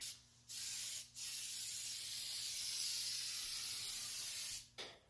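Peelable coating sprayed from an aerosol can onto the grille of a Chrysler 300 Hemi, a loud continuous hiss lasting several seconds with brief breaks where the nozzle is released.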